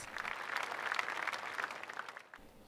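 A church congregation applauds in sustained clapping, fairly steady and dense across the whole stretch, tapering slightly near the end; no voices rise above it.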